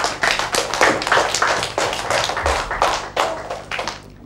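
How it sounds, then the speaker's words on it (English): A year-one classroom of pupils claps together in quick, loud, close rhythmic bursts for a classmate, a dense patter of hand claps lasting a few seconds. "Class, give her a big clap."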